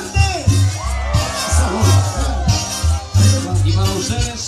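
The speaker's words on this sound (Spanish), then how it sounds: "¡Déjale un grito fuerte!" At a live outdoor concert in El Carmen, La Unión, a crowd shouts, whoops and cheers loudly in repeated bursts, with a throbbing low beat and amplified voices mixed in.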